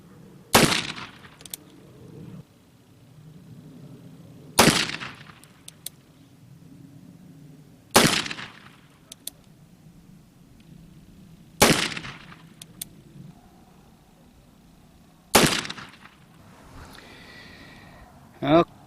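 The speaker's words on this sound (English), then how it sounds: "I'm going to get these caps put on here and we'll shoot another 6 rounds." An 1858 Remington .36 caliber cap and ball revolver fires five loud, sharp shots at a shooting range, spaced a few seconds apart, with a low murmur in between.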